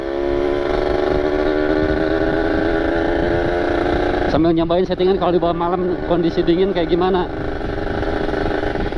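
A ported Kawasaki Ninja RR two-stroke motorcycle engine runs at low-to-mid RPM on a cold night, giving a steady, close buzzing drone that shifts pitch partway through, with someone talking over it.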